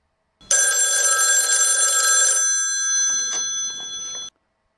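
A telephone rings loudly and steadily for about two seconds on a call-in radio show in a horror story, then fades into quieter ringing tones with a few soft knocks, alone with no talk.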